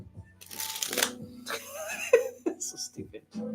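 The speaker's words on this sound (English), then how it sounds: "How about the anaconda shuffle?" A deck of playing cards riffled in an anaconda shuffle, giving two close, crisp bursts of card flutter with a few light taps, while someone talks over it.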